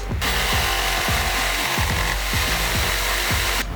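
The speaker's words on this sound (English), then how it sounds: "you have to drill a pre-hole." A power drill bores a pilot hole into wood with a steady, loud grinding whine, interrupted by repeated short surges as the bit bites in.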